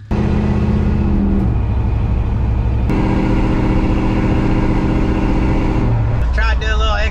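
A 1961 Chevy wagon engine idles steadily and loudly, then shifts pitch as the car sets off on a test drive, with a brief higher-pitched sound near the end.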